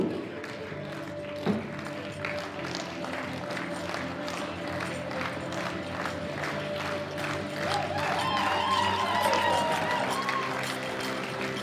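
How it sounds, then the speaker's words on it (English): An audience applauds continuously at a world powerlifting championship, a steady wash of clapping with a few cheers. A voice speaks over the arena sound. "the audience will give all of our athletes a continuous round of applause as they get escorted off the platform"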